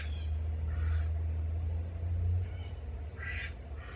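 Ducks on a homestead quack in several short bursts spaced a second or so apart, over a low steady hum of machinery nearby.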